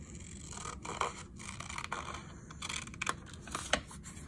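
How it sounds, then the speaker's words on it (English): Scissors snip through paper while an envelope pocket is made for a journal, giving quiet, close, irregular crisp cuts and rustles over a faint background hiss. "Might make it easier if I take the lid off of my scissors."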